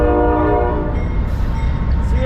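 CSX freight train horn while street running in Hudson, New York, a loud close sustained blast that fades into rumbling rail noise.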